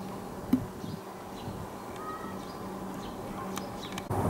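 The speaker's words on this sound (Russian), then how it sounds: "Я так смело к пчелкам подошла. А они трудятся, трудятся, трудятся." Honeybees working around their hives outdoors in spring, a faint, steady buzz with occasional louder passes near the listener and a few distant bird calls behind it.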